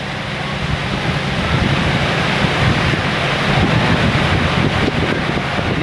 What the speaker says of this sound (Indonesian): hujan angin guys